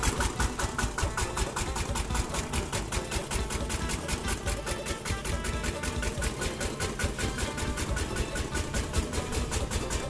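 A tractor engine driving a groundwater pump for a rice paddy chugs steadily with a fast, even rhythmic knocking, running continuously and fairly close, with no voices.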